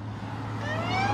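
A siren wails steadily in the background, its rising tone sweeping up over a constant low hum, sounding somewhat distant.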